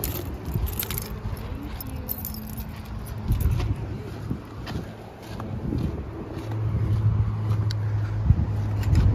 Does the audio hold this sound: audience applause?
no